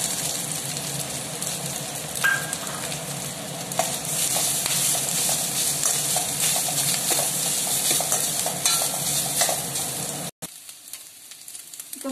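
Onions and grated coconut frying in a pan for Tamil okra curry, a continuous close sizzle with scraping stir strokes, ending abruptly into near quiet.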